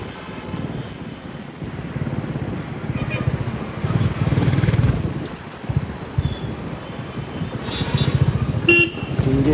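Busy road traffic on a Sunday route near Sringeri with many Bullet motorcycles, engines droning and passing under wind buffeting, with a couple of brief horn toots and surges as vehicles go by.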